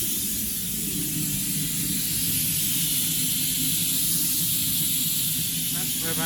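Steam hisses loudly and steadily from a waste-oil rocket stove boiler at 40 PSI, a constant rushing noise that never lets up, with a low rumble underneath.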